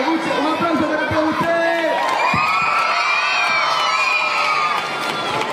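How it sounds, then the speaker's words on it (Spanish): Audience at a live masked-singer show in a Panama shopping mall cheering, whooping and shouting, a loud sustained crowd roar with a few claps early on and bright shouts rising over the din. "Un aplauso para todos"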